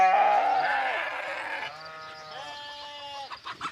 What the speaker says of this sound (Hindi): बकरियां